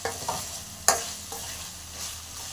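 Brinjal pieces being stirred in a pan over a low flame for chutney, a soft sizzle running underneath as a spoon scrapes and knocks a few times, with one sharper clack near the start.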